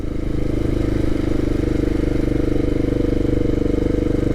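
A motorcycle engine runs with a loud, steady, even drone on a ride near Perkinsville, Arizona, with rushing wind noise throughout.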